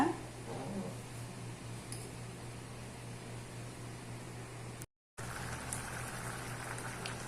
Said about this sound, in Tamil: இது இப்போ நல்லா கொதிக்கட்டுங்க